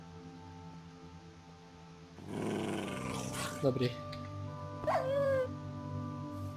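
A dog in the video game Minecraft growls in a short rough burst, then lets out a rising, wavering whimper, under a steady game hum while people talk.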